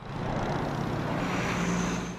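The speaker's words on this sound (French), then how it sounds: "Alors, on entend les avions tout le temps." A propeller airplane passes overhead in a Montreal neighbourhood, a loud continuous engine drone and rushing roar holding steady throughout with a slight swell toward the end, no voices.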